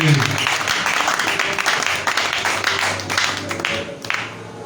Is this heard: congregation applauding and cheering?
yes